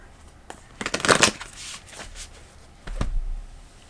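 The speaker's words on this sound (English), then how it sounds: "I'm going to pull a card from the Archetypes" Cards are shuffled and drawn from an Archetypes oracle deck, giving a crisp burst of rapid riffling flutters followed by a softer papery slide and a dull tap.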